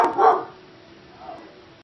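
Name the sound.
dog barking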